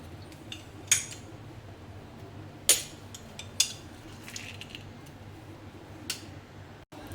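A spoon clinks against a bowl while mixing rava dhokla batter with oil and lemon juice, a few sharp isolated taps amid quiet background hum.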